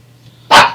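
A pet dog gives a single loud, sharp bark close by in a quiet indoor room, after a faint low hum.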